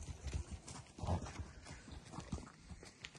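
Hooves clop irregularly on hard ground as a harnessed mare pulls, with some shuffling and faint background noise.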